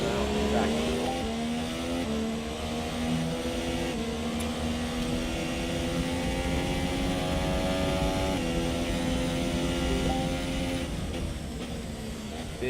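Formula One race car at full speed on an onboard lap of Silverstone, a loud, steady high-pitched engine whine with rising tones through gear changes, continuous and close throughout.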